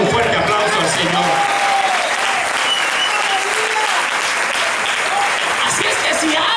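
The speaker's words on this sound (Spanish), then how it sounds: "Alguien déle un fuerte aplauso al Señor." A church congregation at a Spanish-language worship service claps loudly and continuously, a thick wash of applause filling the room with some crowd voices mixed in throughout.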